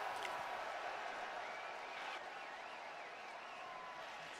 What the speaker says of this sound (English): That crowd noise.